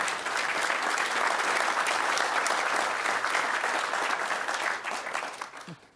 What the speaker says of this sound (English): I'm going to ask you not to applause during the evening